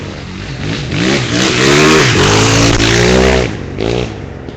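Rally motorbikes racing around a lake on a Sandblast Rally stage at Hunters Pond, engines revving hard through rising gear changes, loud and close, with the pitch climbing and dropping as a bike passes.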